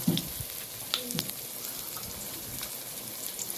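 Dumplings frying in a pot for a yard-style breakfast, a steady soft sizzle crackling throughout with a few sharper pops near the start, no voices.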